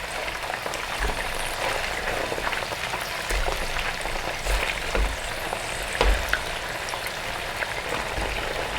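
Chicken pieces fry in hot oil for Manado-style ayam rica rica, a dense, continuous sizzle with scattered pops and crackles, loud and close throughout.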